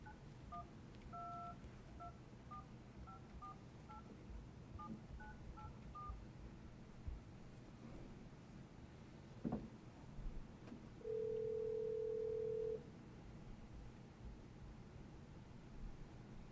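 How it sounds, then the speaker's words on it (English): Telephone keypad tones beep in two quick dialing bursts during a council meeting, followed by a click and a steady dial-like tone of about two seconds, all faint over a low room hum. "Want to get Trustee Butler on the phone here?"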